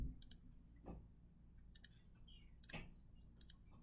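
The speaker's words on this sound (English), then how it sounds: "So I'm just going to start by the exact same way by typing into my calculator." Fingers pressing calculator buttons, a sparse series of short soft clicks at uneven intervals, close and quiet in a hushed classroom.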